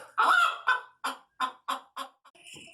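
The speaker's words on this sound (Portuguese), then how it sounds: "está a cacarejar muito" A hen clucks in a series of short, loud, agitated bursts at close range, with a brief higher chirp at the end.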